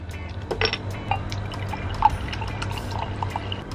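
Chilled Pipi juice is poured into a glass, a close liquid trickle and splash with a few light clinks and drips over a low background hum, without speech.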